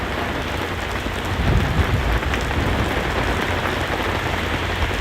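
Steady heavy rain pours down in a non-severe thunderstorm with gusty wind, a dense continuous hiss close by with a faint low rumble of distant thunder, no voices.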